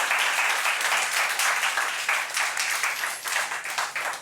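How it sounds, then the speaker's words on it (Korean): Church congregation applauding in celebration, a dense, steady wash of hand claps that holds strong throughout and thins slightly toward the end, with no voices over it. "우리가 감사하고 축하하는 박수를 다시 한번 올리도록"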